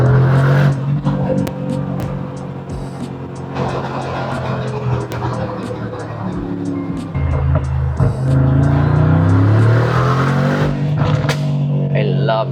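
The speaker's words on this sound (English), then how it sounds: "I always love the backfires of this car, especially with the Akrapovič exhaust." Mercedes G63 fitted with an Akrapovič exhaust rumbles up close, its engine note rising and falling while sharp backfire cracks and pops burst out repeatedly through the run.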